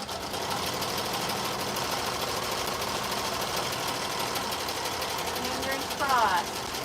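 An embroidery machine stitching an appliqué design onto a fleece scarf hums with a steady, rapid mechanical whir and needle chatter, running continuously under a person talking.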